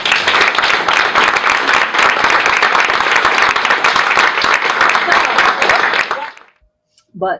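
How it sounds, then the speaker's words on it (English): Loud, dense applause from a crowd, sustained for about six seconds before fading out abruptly into silence. "this is the one that deserves probably the biggest round of applause"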